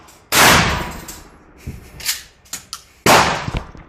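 A Mossberg 500 shotgun fired at an outdoor range, two sharp loud blasts about three seconds apart, each with a short decaying tail, and lighter clicks and knocks between them.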